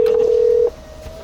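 A single steady telephone dial tone holds for about two-thirds of a second, then cuts off, leaving a quiet background.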